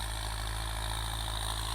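A Kubota M8540 tractor engine idles with a steady, even low rumble and constant mechanical hum, heard close and alone without speech.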